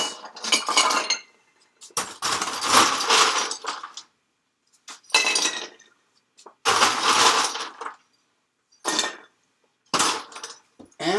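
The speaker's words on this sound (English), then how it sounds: "I'm going to just fill it with some ice" Ice cubes clatter into a glass for a mint julep in several loud, close bursts of clinking and rattling separated by short silences.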